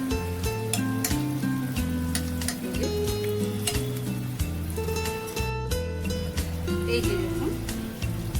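Malpua batter made for a Janmashtami sweet sizzles steadily in hot oil, a dense continuous frying crackle beneath someone speaking and faint background music.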